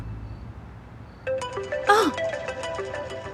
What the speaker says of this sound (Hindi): मैं समझी कि मेरा फोन बज रहा है